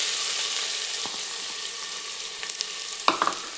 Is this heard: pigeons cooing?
no